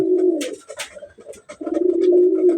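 A pair of pigeons coos close by in low, rolling calls, one long coo, a broken middle stretch with soft flutters and scuffs, then another sustained coo.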